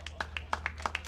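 Scattered hand claps for player Colby Hansen heading to first base at a West Fargo Patriots versus Fargo Post 400 Stars American Legion baseball game, about a dozen sharp, fairly close claps in quick uneven rhythm over a low hum.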